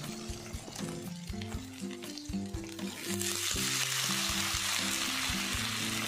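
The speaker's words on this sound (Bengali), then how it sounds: "বেগুনগুলো দিয়ে ভালো করে খুন্তার সাহায্যে মিশিয়ে নিচ্ছি এবং একটু ভাজা ভাজা করে নিতে হবে বেগুনগুলো" Taro and eggplant fry in a pan, a steady loud sizzle with scraping stirs of a spatula throughout, growing denser and brighter partway through.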